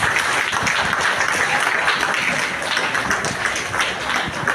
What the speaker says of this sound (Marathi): सगळ्यांनी जोरदार टाळ्या